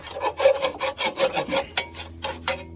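Close, rhythmic scraping as packed debris is cleared from a disc on a newer hay disc mower with quick-change blades, a steady run of rasping strokes with no voices.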